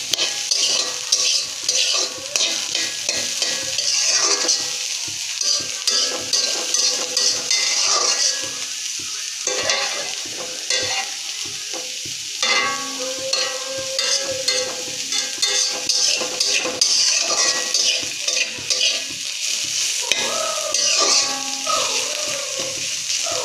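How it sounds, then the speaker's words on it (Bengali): Mustard greens fry in a pan over medium heat, giving a continuous sizzle broken by frequent scraping and clinking as the utensil stirs, close and moderately loud with no talk. "ভাজতে থাকবো। চুলার জালটা কিন্তু মিডিয়ামে রেখেছি।"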